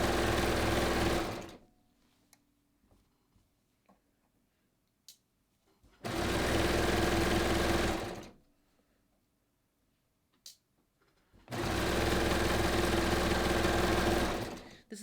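A sewing machine stitches across a top near a kangaroo pocket in three loud, close bursts of rapid whirring, each lasting a few seconds, separated by quiet pauses with faint clicks.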